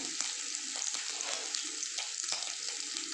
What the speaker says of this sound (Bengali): একটু ভেজে নেবো কালারটা চেঞ্জ হওয়া পর্যন্ত